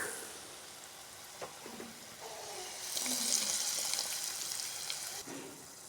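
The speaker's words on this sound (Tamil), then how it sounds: "இன்னும் கொஞ்சம் நல்லா வதங்கட்டும் இப்போ பூண்டு நல்லா வறுபட்டுருச்சு" Garlic and curry leaves fry in a pan, a faint, even sizzle that swells midway and holds, with a few soft stirring taps and no talk.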